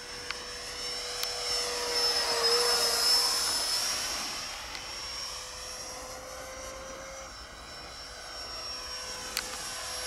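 A Jetstar 64mm 11-blade 4S electric ducted fan RC model jet on its maiden flight roars loudly in a steady high-pitched whine, swelling as it passes close overhead and then holding a constant drone as it flies on.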